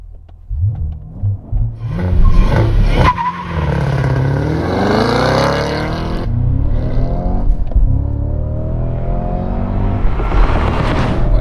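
A Cadillac CT5-V Blackwing with traction control switched off launches hard. Loud tire squeal breaks out over a roaring engine that revs up through rising gears, and no one talks.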